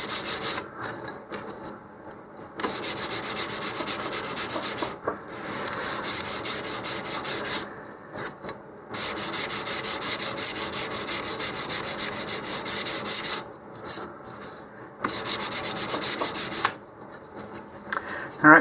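A model rocket is rubbed with 150 grit sandpaper in long, steady scratchy bursts, close and loud, broken by short pauses.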